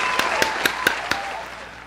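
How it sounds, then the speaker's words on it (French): About five crisp hand claps in a slow, regular rhythm, close by, followed by a quiet, fading room tone. "On vaut un applaudissement."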